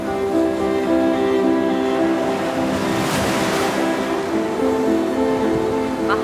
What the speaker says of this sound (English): Behind me is the ocean that we've been waking up to every single morning.